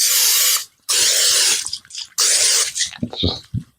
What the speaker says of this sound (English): take some olive oil and spray in that all along the sides